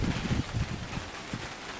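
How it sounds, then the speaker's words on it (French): Rain and gusting wind outdoors make a steady broadband hiss with low, buffeting rumbles against the microphone, continuous through the short stretch. "Vous entendez certainement de la pluie et du vent."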